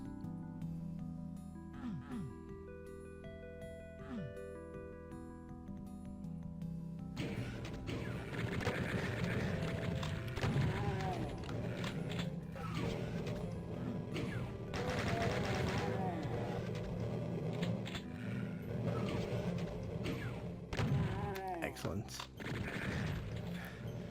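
Combat in the PC/PS1 shooter Final Doom: The Plutonia Experiment: tonal game music gives way to a dense, loud barrage of rapid gunfire, explosions and monster noises that runs continuously to the end.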